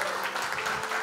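A short, steady burst of applause from an audience at a company sharing session, a dense wash of clapping with no clear pauses.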